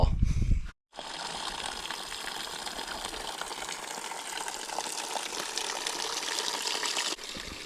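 Water gushing steadily from Little Jimmy spring along the Pacific Crest Trail, a continuous close splashing flow that starts after a brief opening rustle and runs unbroken to the end.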